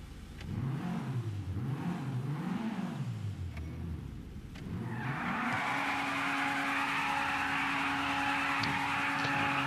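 A car in GTA 5 revs its engine in rising and falling surges, then breaks into a loud, sustained burnout with screeching tires that lasts several seconds.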